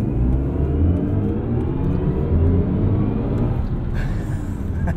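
A 2022 BMW i4 M50 electric car accelerating hard in sport boost mode, its synthesized drive sound a steady, loud, rising hum and whir that rumbles low throughout, heard from inside the cabin with no talking.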